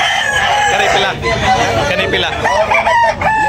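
A rooster crows loudly and repeatedly, close by, with other farmyard fowl clucking and a voice talking underneath.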